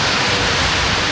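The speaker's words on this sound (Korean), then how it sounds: "갑자기 소나기가 엄청 와가지고 지붕 있는 곳으로 들어가 숨었거든요." A sudden heavy rain shower pours down at a harbour, a loud, even wash of noise heard from under shelter, with no talking.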